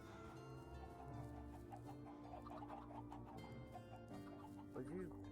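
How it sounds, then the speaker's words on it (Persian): A flock of chickens in a farming video game, clucking continuously in overlapping calls above a steady layer of background music, with no speech. "یه عالمه مرغ داریم"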